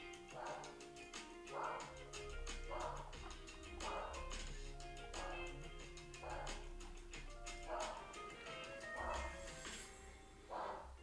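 A dog barks and whimpers in repeated yips roughly once a second in a room during a live day-trading stream, fairly close, over a steady low hum and faint tones, with no talk.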